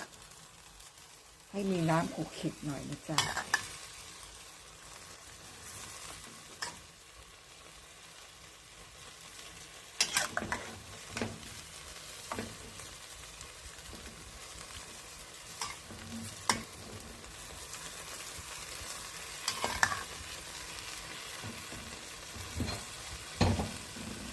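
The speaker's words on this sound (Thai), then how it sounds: "ผัดลงไปเลย ผัดร้อนกินร้อนอร่อยนะคะ" Grass jelly and vegetables are stir-fried in a hot pan, with a steady sizzle punctuated by repeated scraping and clanking strokes of a spatula, and bits of speech drift in and out.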